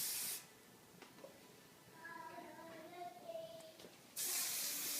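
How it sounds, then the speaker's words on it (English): Hairspray hissing from an aerosol can onto styled hair, two bursts of close, bright spray at the start and end of the clip, with soft talk in between. "And then go ahead and spray it"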